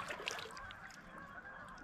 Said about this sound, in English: there's ducks there